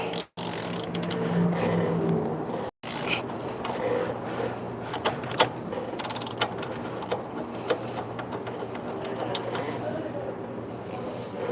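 Mazda B2300 engine being turned over by hand during timing work: close mechanical ratcheting, rubbing and clicking that grinds along unevenly, with two short silent breaks near the start.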